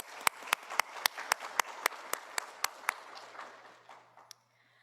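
Applause for an honoree at a university Black Scholars ceremony comes as about a dozen sharp, evenly spaced claps, fairly quiet and distant, thinning into a soft patter before stopping.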